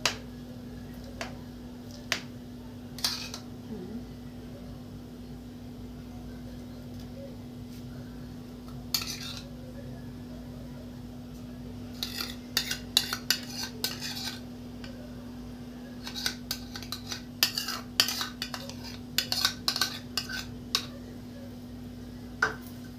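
A metal spoon works ghee into a tray of oven-baked Egyptian country-style rice, giving scattered, sharp clinks and scrapes that come in bursts over a low, constant hum.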